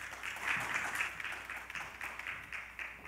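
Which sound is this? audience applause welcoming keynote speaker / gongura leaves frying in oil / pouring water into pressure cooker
audience applause welcoming keynote speaker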